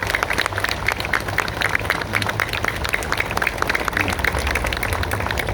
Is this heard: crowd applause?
yes